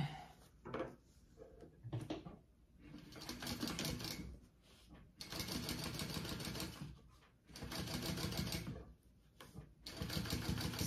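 A sewing machine top stitches through the seam of a card wallet in bursts of rapid, steady needle chatter, pausing briefly between runs, fairly close and moderately quiet.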